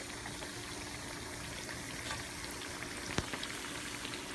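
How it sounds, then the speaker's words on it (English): Salmon croquettes fry in a pan of grease with a steady, dense crackle and sizzle close by, a single sharper pop standing out near the end, and no voices. "Just let them fry for a few more minutes."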